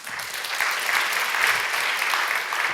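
Applause from the audience at a tenth-anniversary celebration for a girls' association, a thick, even wash of many clapping hands that stays steady and loud with no pauses.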